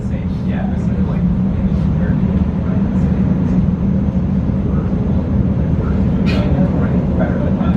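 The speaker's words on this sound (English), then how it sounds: "This is a pink line train to 54th and Circuit." A Chicago Pink Line train gives a loud, continuous rumble and rattle of the rail car from inside, with people talking over it.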